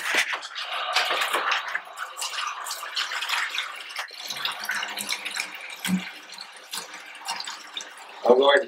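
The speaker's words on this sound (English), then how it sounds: "use the farmer's bucket and fill it with hot water" Hot water runs from a tap into a farmer's bucket in a cold dairy barn, a steady broadband rush lasting throughout with a brief clatter at the end.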